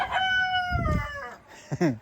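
A rooster crows one long, loud drawn-out call, followed by a couple of shorter clucking sounds close by.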